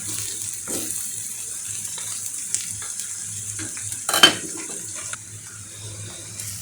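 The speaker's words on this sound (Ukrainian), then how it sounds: "Зараз смажимо цибульку, чесничок" Onions and garlic sizzle and hiss gently in melting butter in a pan on the stove, with occasional stirring and scraping sounds, close by and without speech.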